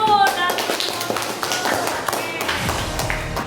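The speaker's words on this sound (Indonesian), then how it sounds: "Oke, semuanya kita tepuk tangan dulu." Classroom audience in a teacher-training lesson claps hands together on request; brisk, close, continuous clapping runs the whole time, with a brief tonal sound at the start.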